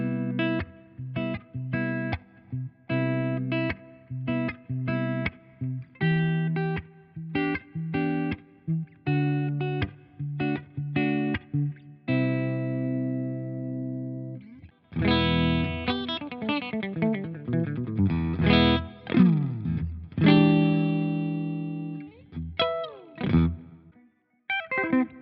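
Enya Sonic electric guitar with PAF style pickups on a clean tone, picked single notes and chords with sustained ringing phrases, played alone with no talk.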